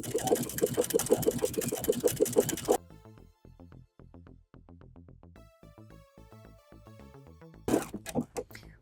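A sewing machine runs satin-stitch applique on knit fabric, with a dense stitching whir in short bursts at the start and the end and a stretch of music in between.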